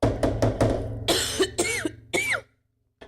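A man coughs in a rapid burst of short harsh hacks, then a few heavier, throaty coughs, close and loud, ending in a brief silence.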